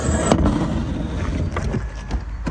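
Worn rollers on a Honda Odyssey side sliding door grinding as the door moves, a continuous rough scraping rumble heard up close with no talking.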